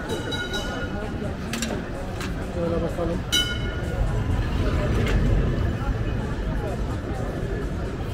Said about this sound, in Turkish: Yine tramvay geliyor.